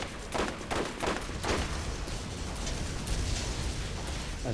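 Rapid automatic gunfire from an autogun in the Borderlands video game, a dense stream of close bursts with a rumbling, explosive low end running continuously throughout, no talking over it.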